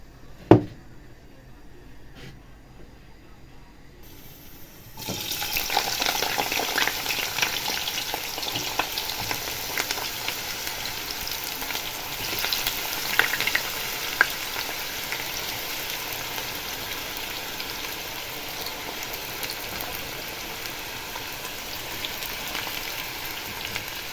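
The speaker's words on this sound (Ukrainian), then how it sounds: "в гарячу сковороду висиплемо картоплю. Буде у нас смажена картопля" Steady crackling sizzle of potatoes frying in hot oil in a frying pan, starting abruptly after a few quiet seconds with a clatter, then continuing loud and even throughout.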